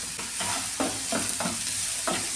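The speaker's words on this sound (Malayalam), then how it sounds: "ഇത് നന്നായിട്ടൊന്ന് വഴറ്റിയെടുക്കാമേ." Onion, green chilli and curry leaves sautéing in a pan, a steady bright sizzle broken by a series of regular spatula scrapes roughly every half second, close and loud, no talking.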